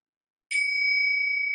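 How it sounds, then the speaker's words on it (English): A single meditation timer bell strikes once and then rings on as a clear, sustained tone that stays loud and steady to the end, with no other sound around it. "I set my timer. Here's the bell."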